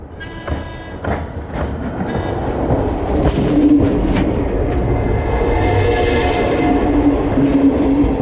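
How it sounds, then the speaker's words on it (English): Solar-powered train on a restored section of the old Casino to Murwillumbah line, rumbling close by as it approaches a level crossing, with several short horn toots near the start over steady running noise. "A few more toots of the horn as we approach the level crossing to warn the traffic that we're coming through"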